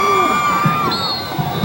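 Crowd at the 2005 Paulsboro vs Glassboro South Jersey Group 1 high school football final, loud and steady, with cheering, whoops and scattered shouts from the stands.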